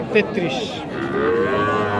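A Sahiwal heifer calf moos loudly and close at a busy cattle market, one sustained low call that fills the whole moment.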